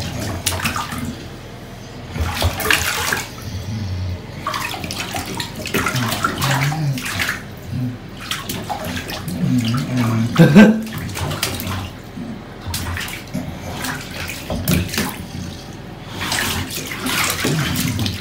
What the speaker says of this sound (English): I'm going to clean his face as well with warm water